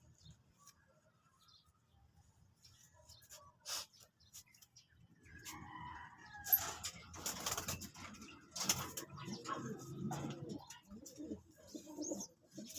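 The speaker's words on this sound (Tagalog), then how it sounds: "Maliit na ibon lang." Soft cooing from a small bird, repeated a few times over light background noise and scattered rustles.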